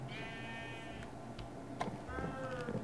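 Minecraft cows lowing in the game, a couple of drawn-out tonal calls rising and falling, one after another over low background hum, moderately quiet.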